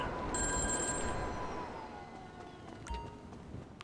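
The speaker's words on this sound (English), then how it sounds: "We head down to the payphone and we answer it" A payphone ringing in GTA Online: a bright electronic telephone ring sounds for about a second, then fades under low background rumble, with a short knock or tap near the end.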